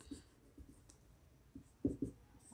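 A teacher writes on a classroom board, leaving a few faint, brief scratchy strokes and light taps spaced unevenly against a quiet room.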